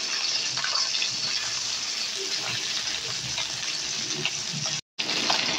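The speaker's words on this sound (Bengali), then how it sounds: "এই কয়টা মাছ আমি কিন্তু একটু কড়া করে ভেজে নেব।" Bata fish fry crisp in hot oil, giving a continuous, even sizzling hiss at moderate level that cuts out briefly near the end.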